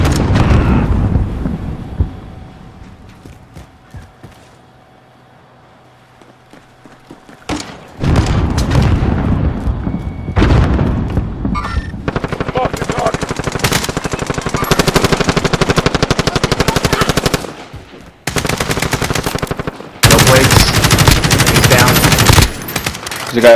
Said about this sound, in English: bullets are flying